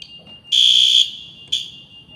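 A fire alarm safety signal sounds in loud, high electronic tones: a long piercing beep of about half a second, a fading tail, then a second short blast.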